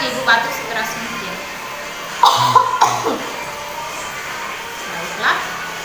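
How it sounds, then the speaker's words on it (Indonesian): A patient coughs forcefully during a deep-breathing and effective-coughing exercise: one harsh, close burst of coughing in the middle, set against quiet room tone with a few faint sounds around it. "Silakan Ibu batuk sekeras mungkin."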